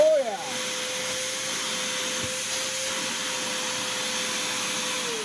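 A 1-gallon Porter Cable wet/dry shop vac rated 1.5 peak HP pulls up sawdust with a continuous loud airy roar and steady motor whine after a brief pitch sweep at the start, holding level to the end.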